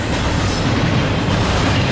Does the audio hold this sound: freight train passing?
yes